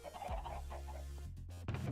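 Chickens clucking in Minecraft, a loud run of overlapping game clucks and squawks close up with no talk over them.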